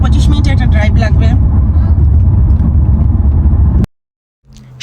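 A car drives along a road in New York toward Harbor Island in New Rochelle, with a loud, steady low engine and road rumble under talking. The sound cuts out abruptly near the end.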